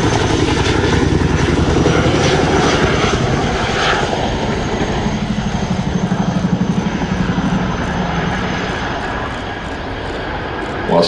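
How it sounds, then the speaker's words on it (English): A Chinook helicopter thunders overhead at an air show, its rotors beating out a loud, rhythmic blade slap under a roaring engine whine as it passes and fades slightly. "it gives an opportunity to hear the iconic blade slap as it comes past"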